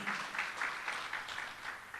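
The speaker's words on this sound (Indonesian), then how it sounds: "Berikan tepuk tangan, haleluya." Steady applause from a congregation at a prayer and fasting worship service, clapping blending into a continuous wash of sound at a moderate distance.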